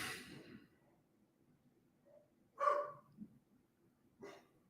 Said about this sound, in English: what is she barking at?